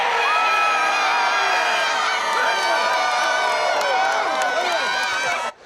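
A large crowd cheers, whoops and shouts at 6th and Green in a loud, dense roar that stays steady from start to finish before cutting off sharply at the very end.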